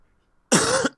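A single harsh cough bursts out at close range and lasts about half a second, followed by the onset of a second one, during a maths help session.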